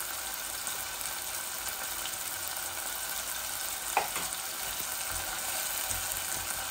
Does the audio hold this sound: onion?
yes